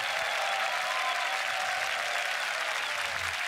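Audience at a youth beatbox battle giving steady applause, a dense hiss of clapping with faint cheering mixed in, continuous throughout and fairly loud.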